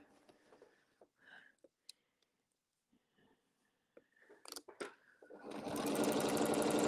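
A sewing machine stitches in the ditch on a quilt, starting with a few slow single stitches amid handling noises and faint talk, then breaking into a loud, steady run of fast stitching near the end.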